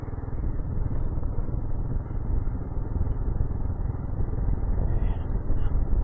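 A motorcycle rides on a wet, snowy road with the bike slipping underneath, giving a loud, continuous engine drone and rumble close up, steady throughout with no pauses.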